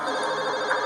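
A short burst of an electronic telephone ring, steady and tonal, heard alone at moderate volume.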